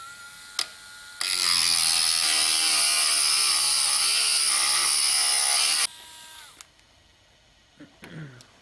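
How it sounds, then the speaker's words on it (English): A Dremel spinning a cutoff wheel through a brass tube gives a loud, high, steady grinding whine lasting about five seconds. Faint clicks and handling noises come before and after it. "I'm going to use this cutoff wheel. And it's attached to the Dremel, and I'm just going to start by turning it on and getting to it here."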